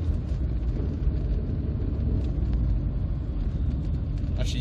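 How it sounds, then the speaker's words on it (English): A 1990 Nissan Bluebird T72 1.8 GS drives steadily along a road, its engine and tyre noise forming a continuous low rumble heard from inside the cabin, with no speech. "the way this car kind of glides down the road"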